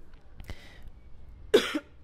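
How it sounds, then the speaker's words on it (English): A single short, harsh cough near the end, preceded by a faint breathy sound, with otherwise quiet surroundings, from a traveler on the Jagriti Yatra train journey. "I'm still coughing."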